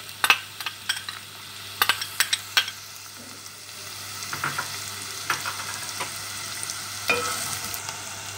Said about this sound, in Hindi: प्याज को उस वक्त तक फ्राई करना है जब तक ये थोड़ी सी लाइट ब्राउन हो जाए।